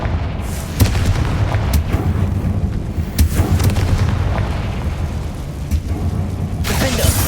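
Confringo fire spell blasts in Hogwarts Legacy combat, a string of booming explosive hits over a dense rumbling din, with sharp impacts repeating every second or so and a loud burst near the end.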